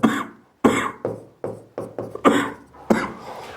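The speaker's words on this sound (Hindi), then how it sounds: "थोड़ी सी खांसी आ रही है, मैं पानी पी लेता हूं" A fit of about eight harsh coughs in quick succession, close and loud, each burst trailing off before the next.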